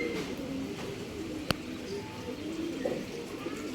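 Phatta pigeons kept for sale in Bangalore coo softly in low repeated notes close by, with a single sharp click partway through and faint ambient noise.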